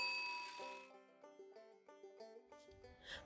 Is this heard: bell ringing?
yes